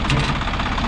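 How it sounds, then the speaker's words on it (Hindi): A Swaraj 855 FE side-gear tractor (2023) idles with a steady, low, knocking diesel rumble, close and fairly loud, in a brief snippet. "ये आ गया अपना स्वराज।"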